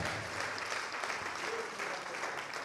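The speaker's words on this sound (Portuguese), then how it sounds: "Vamos aplaudir ao Senhor." A church congregation claps together in praise during a sermon, a continuous, even patter of many hands that stays level for the whole stretch, fairly soft and roomy.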